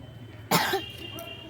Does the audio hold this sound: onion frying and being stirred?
no